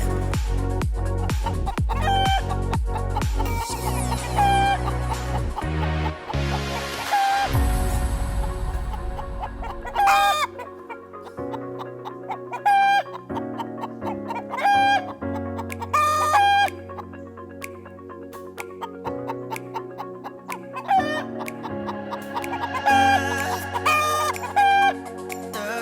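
Chickens cluck and a rooster crows during demolition of a concrete ramp, heard alongside repeated sharp knocks and scraping from breaking out wall and nails, with loud, busy activity throughout.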